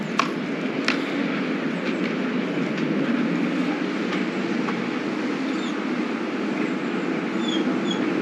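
A Llanberis Lake Railway train rumbles steadily nearby at a platform, a continuous roar with occasional clicks and faint high squeals from the wheels.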